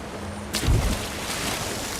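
Rushing waterfall water in The Elder Scrolls Online, a broad steady hiss that swells with a brief low splash partway through, then continues evenly, no talking.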